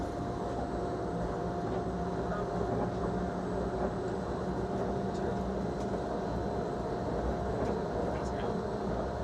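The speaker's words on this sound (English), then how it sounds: "the latest generation of Disneyland monorails" Disneyland monorail train running, a steady continuous rumbling hum with a mechanical whine, held at an even moderate level throughout with no talk.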